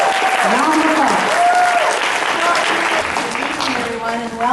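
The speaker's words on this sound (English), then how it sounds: "A round of applause." Loud, sustained audience applause at a college achievers awards ceremony, with whistles and cheers rising over steady clapping throughout.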